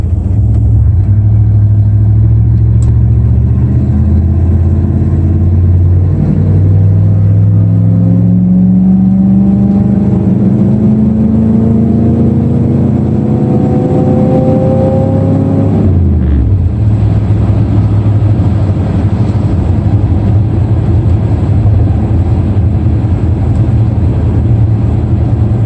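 An older car engine fitted with a lunch box locker revs up in the rain, its loud rumbling idle climbing through a long rising sweep of harmonics before dropping sharply back to a steady idle.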